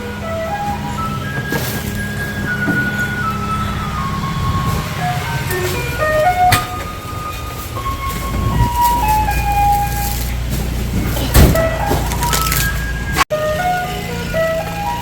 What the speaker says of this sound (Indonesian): ini mobil sampahnya datang ya